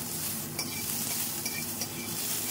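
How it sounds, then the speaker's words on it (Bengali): Whole green chilies and spices fry in a pan with a close, even sizzle and occasional light clinks from stirring, and no speech. "3টে গোটা কাঁচা লঙ্কা দিয়ে এটাকে অল্প একটু আমি সব মিলিয়ে ভেজে নেব।"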